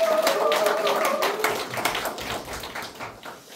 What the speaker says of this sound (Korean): 여러분들 큰 박수로 모시겠습니다